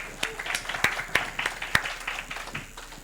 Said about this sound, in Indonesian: kita tepuk tangan sekali lagi buat Mas Wilfredo